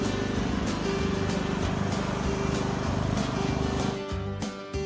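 A lawnmower engine towing a heavy trailer on a smallholding drones steadily and fairly loud throughout, easing off slightly near the end.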